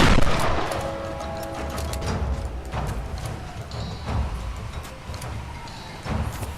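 Shotgun fire in the video game Tomb Raider against sword-wielding attackers: dense, loud blasts over a busy, continuous bed of combat noise.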